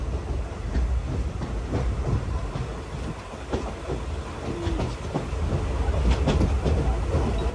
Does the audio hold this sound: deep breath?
no